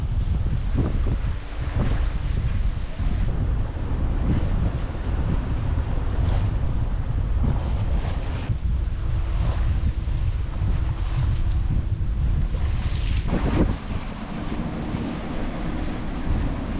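Steady wind and rushing ocean waves surround a sailboat cruising off Saint Lucia, a loud continuous roar with surging swells and gusty rumble, no voices.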